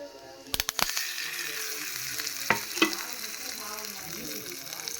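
Hot tempering crackling in a pan over ground ridge gourd chutney, with sharp utensil clatters early on, then a softer continuous sizzle under a few quiet knocks.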